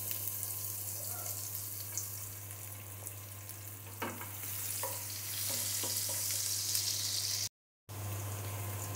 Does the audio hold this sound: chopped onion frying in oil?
yes